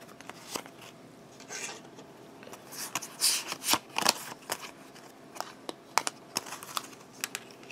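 Tarot cards shuffled and handled close up, a run of light papery riffles, taps and flicks in uneven clusters, with no talking.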